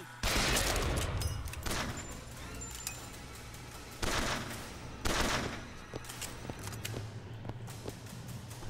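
Loud, sustained gunfire in the video game BioShock Infinite, with rapid bursts and several heavy blasts over a constant rumbling din.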